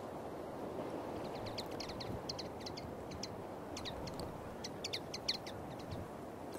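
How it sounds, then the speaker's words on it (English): Small birds along the Camino de Santiago chirp in quick, faint bursts, repeating irregularly over a steady outdoor rumble. "These birds are great."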